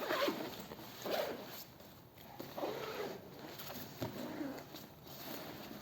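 A zipper on the side opening of a SOMA travel bag is pulled in several short, raspy strokes, close and fairly quiet, with no talking.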